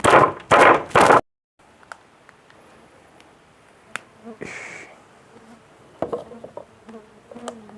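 Three loud cracks at the start as a log hive is split, then buzzing Trigona laeviceps stingless bees swarming out, with scattered small clicks and taps nearby and no voices.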